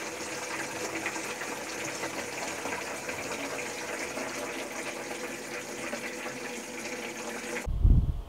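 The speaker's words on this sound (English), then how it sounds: "I'm just gonna drain this a little bit, get all the crud that's in that water tank out first." Water runs steadily from a new horse trailer's water tank as it drains, a continuous close splashing gush that stops abruptly near the end, followed by a brief low thump.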